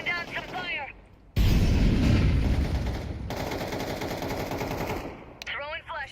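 Loud, rapid automatic gunfire in a tactical shooter, a dense sustained burst lasting several seconds close up, with a voice talking briefly before and after.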